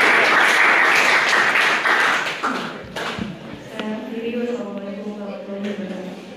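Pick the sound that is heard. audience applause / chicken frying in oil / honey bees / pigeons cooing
audience applause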